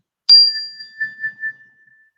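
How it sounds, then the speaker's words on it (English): A meditation bell is struck once, giving a clear, bright chime that rings out alone and slowly fades over about a second and a half in near silence. "One more time, I'm going to chime the bell."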